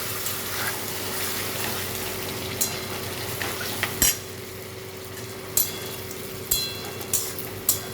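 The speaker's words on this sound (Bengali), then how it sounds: "এখন আমি এখানে সিদ্ধ করা লাউটা দিয়ে দিচ্ছি।" Boiled bottle gourd tipped into ginger, cumin and spices frying in a wok, giving a low steady sizzle with a constant hum and scattered metallic scrapes and taps of a spoon.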